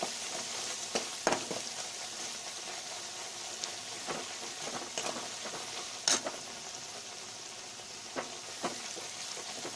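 Dry spices frying in a pan for aloo matar curry make a soft, steady sizzle with scattered sharper pops and light stirring clicks, with no voices.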